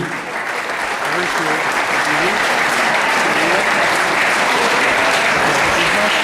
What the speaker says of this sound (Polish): Brawa na przewodniczącego jury i na jurorów